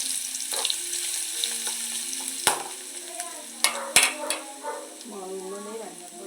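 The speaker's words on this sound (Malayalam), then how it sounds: "അപ്പം ഇനി ഓരോന്നായിട്ട് നമുക്ക് എണ്ണയിൽ ചൂടാക്കിയെടുക്കേ ആദ്യം വെളുത്തുള്ളിയാണ് ഇട്ടോട്ടത്" Garlic fries in hot oil for a tender mango pickle, giving a steady sizzle with a few sharp clinks from stirring and a brief voice toward the end.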